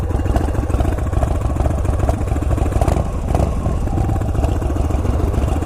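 A motorcycle engine idles steadily and close by, a continuous low rumble with a light mechanical clatter and no talk.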